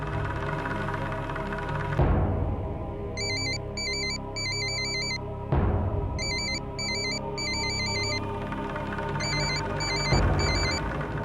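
A telephone rings with an electronic ringtone in three bursts of rapid warbling tones, each burst preceded by a sharp knock-like onset, heard alone in a quiet room at moderate loudness.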